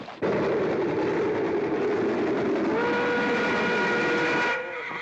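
A steam train rolls in with a loud, steady rumble and clatter, its whistle sounding in sustained tones before the noise drops off near the end.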